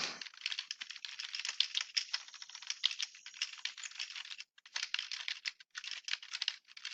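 Steady fast typing on a computer keyboard while entering code, a continuous patter of light key clicks with one short pause, close and fairly quiet with no talking.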